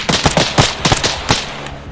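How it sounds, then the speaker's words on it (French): Machine gun fire in the Arma 3 military video game, with rapid irregular bursts of loud sharp shots rattling over about two seconds, then easing off into quieter background. "La tire de mitrailleuse est allié."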